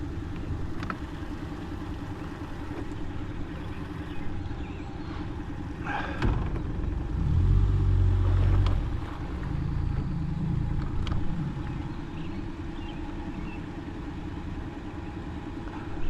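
A Tracker Panfish 17 fishing boat's motor runs steadily as the boat eases up to a dock, a low continuous engine drone with a brief rise in the middle, close and fairly loud.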